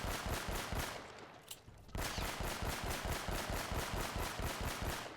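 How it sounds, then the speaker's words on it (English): Rapid automatic gunfire from the action game Uncharted: Drake's Fortune rattles in a dense, even stream, loud and near, with a short lull around the middle before the firing resumes. "Well, yeah, I am going to be shooting."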